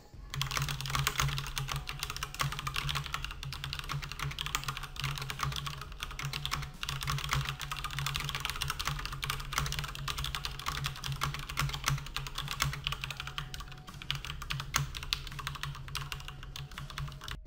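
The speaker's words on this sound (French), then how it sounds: "les nuisances sonores provoquées par les interrupteurs mécaniques de ce Master Keys Pro M" Rapid, continuous clacking of a Cooler Master MasterKeys Pro M mechanical keyboard typed nearby at a steady pace, with no voices.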